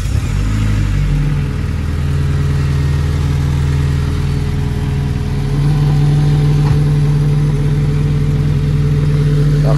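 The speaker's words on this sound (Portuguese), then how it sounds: "Vou mostrar agora o carro a trabalhar e vão ouvir já o suco do ar do gás" Car engine with a homemade air box, HKS filter and 76mm intake piping, running loud and steady close by, rising in revs with a deep throaty drone and induction sound throughout, no talk.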